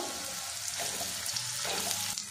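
Chopped ridge gourd sizzles and crackles in hot oil with black cumin over a gas flame, a steady frying hiss with soft stirring scrapes running through the whole stretch, close and alone without voices.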